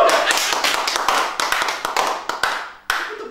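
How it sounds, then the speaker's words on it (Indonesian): A studio audience at an Indonesian TV show claps in a dense, fairly loud burst of overlapping hand claps with sharp individual smacks, thinning out toward the end, with no talk over it. "Tepuk tangan dulu dong."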